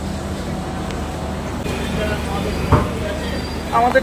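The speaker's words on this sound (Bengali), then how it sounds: "আমাদের ট্রেন ঢুকে পড়লো নিউ কুচবিহারের 5 নম্বর প্ল্যাটফর্মে।" Brahmaputra Mail pulling into platform 5 at New Cooch Behar station: a steady low rumble of rolling wagons, with a sharp clank near the middle and brief wheel squeals toward the end.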